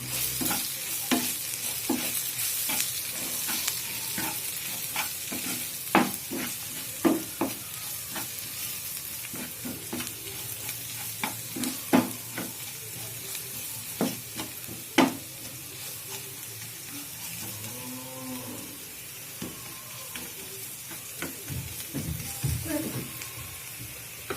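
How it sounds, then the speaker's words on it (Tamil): A spatula stirs and scrapes a potato bonda filling seasoned with garam masala in a hot pan. Repeated clicks and scrapes sound over a continuous soft sizzle, close up, with a voice faintly present at times. "கரம் மசாலா கொஞ்சம் போட்டுக்கலாம். இதனால நம்ம மிக்ஸ் பண்ணிக்கலாம்"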